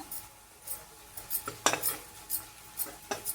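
A metal spoon taps and clinks against a pan while chili powder goes into cooking mixed vegetables, several sharp close clinks spaced irregularly over a quiet background.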